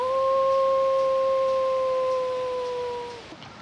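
A person imitates a wolf's howl with one long, steady, sustained tone that holds for about three seconds before fading out, loud and close against a quiet outdoor background.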